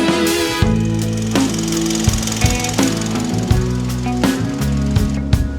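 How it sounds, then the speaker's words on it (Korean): A Hyundai LF Sonata LPi sedan's LPG engine idles steadily up close, a low even rumble with faint regular ticking and occasional louder clicks. "엔진 소리 한번 들려드리겠습니다."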